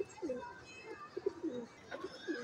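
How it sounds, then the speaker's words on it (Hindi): Soft, repeated cooing of a blue pigeon kept by a pigeon fancier, a few low throaty calls close by with faint background noise. "यह नीला कबूतर है"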